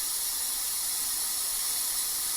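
A spray gun (Iwata, DeVilbiss) is left running to empty an air compressor, giving a continuous bright, even hiss of escaping air, close and steady throughout, with no talking.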